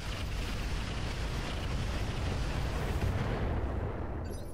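A volley of LRM missiles launched by a mech in the BattleTech-based game Roguetech, a loud continuous roaring rush of launches that holds steady for several seconds, with no talk.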